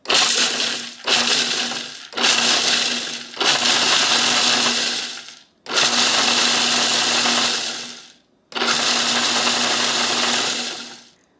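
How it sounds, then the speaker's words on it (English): A food processor chopping walnuts and oats in five loud bursts of a few seconds each, a harsh whirring grind with brief silences between pulses, close up, with no talking. "let's get out our food processor. Okay, we're gonna dump our walnuts and our oats. And we just want to process these for a little bit."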